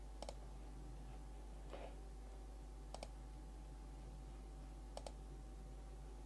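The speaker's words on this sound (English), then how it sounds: "Sorry about clicking, folks." Computer mouse or keyboard clicks during a live chat stream, several sharp, faint clicks spaced a second or two apart over a low steady hum.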